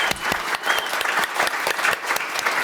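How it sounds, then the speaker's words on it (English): An audience at a female founders panel event claps for the panelists, a dense burst of steady applause filling the room, close and fairly loud. "we get a round of applause"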